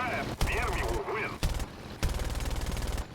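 Bursts of aircraft gunfire from a He-112 B-1/U2 fighter in War Thunder, three rapid volleys of rattling shots with short gaps between them, loud and close, preceded by a brief burst of engine and radio noise.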